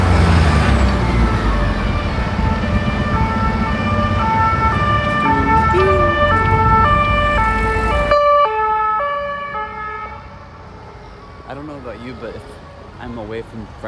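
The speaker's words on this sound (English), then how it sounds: "I missed that siren sound. I miss those sirens." A loud wailing ambulance siren rises and falls close by over Paris street traffic, then fades as the vehicle moves off, leaving quieter road noise.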